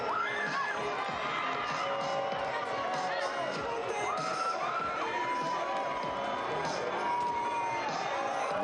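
Soccer supporters at Cardinale Stadium during a Monterey Bay FC match against LA Galaxy II, a steady crowd murmur with scattered cheers and whoops, fairly distant and continuous throughout.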